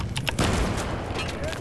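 Grenade blasts and gunfire in an 8-vs-8 competitive multiplayer shooter match, several booming bursts crowding together under a steady rumble of combat noise.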